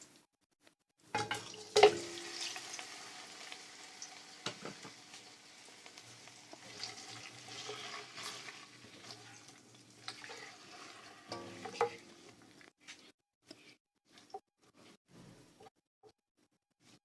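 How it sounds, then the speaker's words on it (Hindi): Chicken pieces go into hot oil and fry, with a loud initial sizzle and stirring clatter, then a steady moderate crackle and occasional utensil knocks before fading quieter. "अब हम चिकन को 5 मिनट के लिए अच्छे से हम भूनेंगे"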